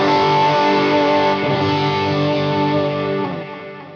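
Electric guitar solo played through a Yamaha THR100HD amp running clean with a level booster engaged, sustained singing notes with rich harmonics ringing out loud and alone, fading slightly at the end.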